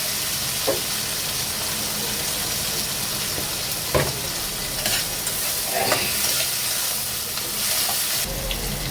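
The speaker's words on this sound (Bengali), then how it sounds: "তেলের ভিতরে একটু সাদা জিরে দিয়ে দিলাম, দিয়ে দিচ্ছি পেঁয়াজ আর টমেটো" White cumin, onion and tomato fry in hot oil with a constant loud sizzle and hiss. A few soft clinks and scrapes of stirring sound now and then, with no voices.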